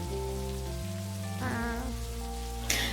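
Steady rain hisses softly in Necrobarista beneath layered lo-fi music chords, with a brief brighter burst of noise near the end.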